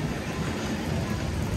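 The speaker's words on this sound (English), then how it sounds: "I hope to get on this tram for a number" A tram rolls past in a seaside pier town, a dense broadband rumble and rattle filling the whole moment without letup.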